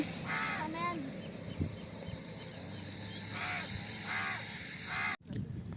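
Several crows caw in bursts of harsh calls, two or three at a time, over steady outdoor background noise, with a sharp knock near the end.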